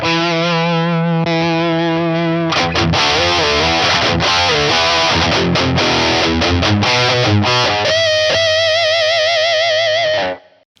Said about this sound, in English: this is just every kind of overdrive, distortion, fuzz that you could possibly imagine